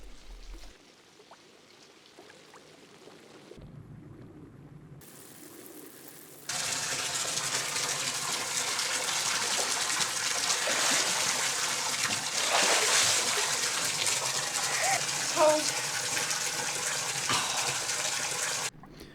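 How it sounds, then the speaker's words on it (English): Water pumped by an aquarium air compressor gushes and splashes steadily out of a filter pipe into a garden pond with a gravel bed, starting quieter and then becoming a loud, continuous pour for about twelve seconds. "As water is being pumped out of the pipe, so replacement water will be drawn down through the gravel and begin to filter the pool."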